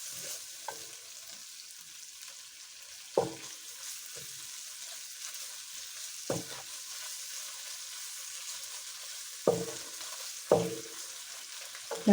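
Small chicken pieces frying in a pan for spicy Thai rice noodles, with a steady sizzle and several sharp scraping stirs spaced a few seconds apart.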